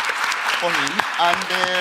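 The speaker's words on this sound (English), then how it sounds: "Please, let's clap for him." Applause from a conference audience at a community health partnership launch, a steady clatter of hands sounding under a voice as he speaks over it.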